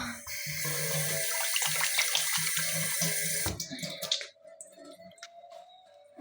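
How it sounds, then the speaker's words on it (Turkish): Hands being washed under a running tap at a sink, a steady close water rush for about four seconds that then cuts off, leaving quiet room sound. "Ellerimi, ellerimi yıkadım."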